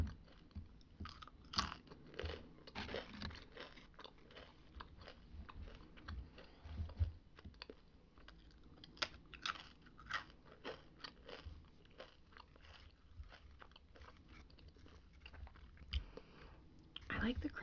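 Potato chips crunched and chewed up close in a quiet room, a steady run of crisp bites and mouth sounds with faint soft talk in the background.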